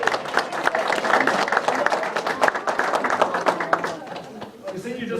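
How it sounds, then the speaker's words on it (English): An audience at a Republican forum in Aurora breaks into sustained applause as a congressman enters the room, a dense, loud patter of many hands clapping that carries on and eases slightly toward the end. "you just walk in and the room erupts into applause"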